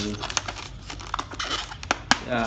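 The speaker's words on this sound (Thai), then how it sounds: "แกะออกมาเลยเนาะ" Packaging of a WINGUN 701S being unwrapped, with close crinkling, rustling and quick tearing snaps in irregular bursts over a couple of seconds.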